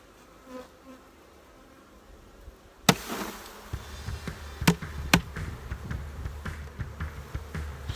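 Honey bees buzz around an open hive during a December honey harvest with a faint hum, then sharp knocks and handling thumps follow as frames are worked.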